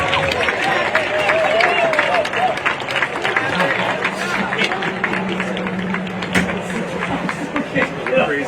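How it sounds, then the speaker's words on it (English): Crowd at a track mile race applauding the pacemakers, a steady spread of clapping and cheering with an announcer talking over it. "Let's have a round of applause for the rabbits."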